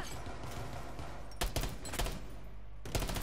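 P90 submachine gun fire in Rainbow Six Siege on the Bank map: loud rapid bursts ripping out in two clusters over a constant low game rumble, with a final burst starting near the end.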